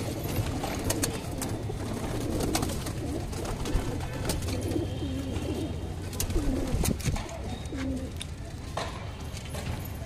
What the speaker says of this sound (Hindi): एक से कबूतर है पीले गंडों की